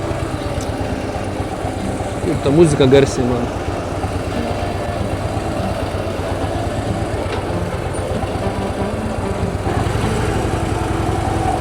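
Harley-Davidson motorcycle engine idling and rolling at very low speed, a steady low rumble throughout with a brief louder burst near the start, while someone talks over it.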